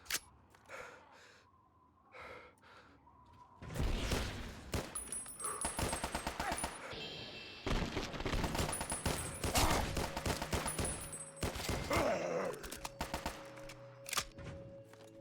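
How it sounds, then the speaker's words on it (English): Rapid bursts of gunfire in the Fallout: Nuclear Sunset mod, loud rattling volleys starting about four seconds in and running almost to the end, with scattered impacts and quieter sounds before them. "Shooting."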